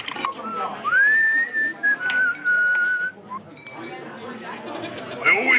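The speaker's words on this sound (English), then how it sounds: "Couldn't he pick a better time to do his whistling?" A person whistles a clear, wavering tune, one sustained rising-then-steady melodic line followed by a few short phrases, with low chatter and movement underneath in a frontier setting.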